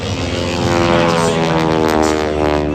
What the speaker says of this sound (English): It's a big, heavy airplane, and Vicky just throws it around like it's n